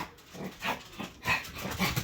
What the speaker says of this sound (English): Don't mind my dog, I apologize.